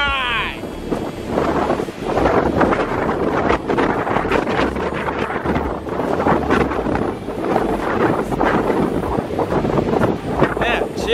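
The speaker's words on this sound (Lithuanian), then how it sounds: "Dabar kai vėjas ir be lietaus, visai smagu minti" Strong gusty wind roars across the microphone while riding a bicycle ahead of a storm, a loud, continuous, rumbling buffet that barely lets up.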